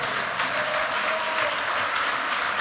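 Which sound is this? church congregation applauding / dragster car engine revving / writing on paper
church congregation applauding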